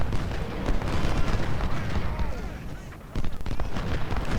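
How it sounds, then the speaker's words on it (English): Artillery barrages rumble in the Civil War strategy game Ultimate General at the Battle of Chickamauga, a dense wash of booms and gunfire under a steady voice. "only artillery barrages"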